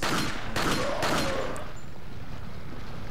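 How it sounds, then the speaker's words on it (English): Gunfire aimed at a barrel in Resident Evil 4, with two sharp shots close together near the start followed by a fading rumble and ambient noise. "Okay, gotta shoot that barrel."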